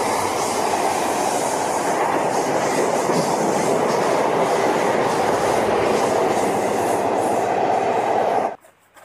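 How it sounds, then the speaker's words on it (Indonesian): A fast train rushes past with a loud, dense roar and rapid clickety-clack of wheels on rails, sustained at full strength before cutting off abruptly near the end. "Wow, ini kereta cepat."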